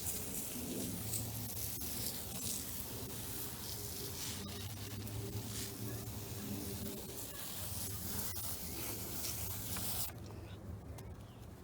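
Steady hissing spray of liquid onto garden soil around a potato plant runs continuously for several seconds, close and even, with a brief fuller burst near the end.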